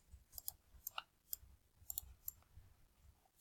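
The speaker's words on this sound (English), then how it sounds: "I'm going to click it and hit delete on my keyboard." Faint, sharp computer clicks from a mouse and keyboard delete key during SketchUp work, about a dozen short isolated ticks scattered irregularly over a quiet background.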